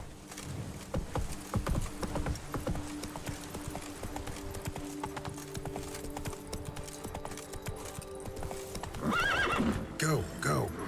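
Galloping horse hooves clip-clopping in The Witcher 3 video game, a steady pounding rhythm throughout, ending with a loud neigh and whinny near the close, with game music or voice layered underneath.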